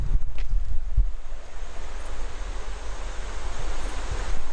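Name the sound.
river flowing past washed-out road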